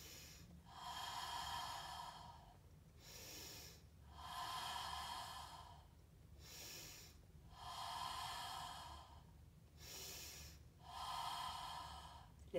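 Slow, deliberate breathing during a back-stretching exercise, six long airy breaths at an even pace, each drawn out for about a second and a half with short pauses between, close and quiet with no speech.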